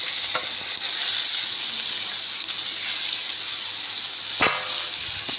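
Finely chopped onion fries in oil in a pan for a bitter gourd mezhukkupuratti, a loud continuous close-up sizzle broken by a couple of brief stirring knocks.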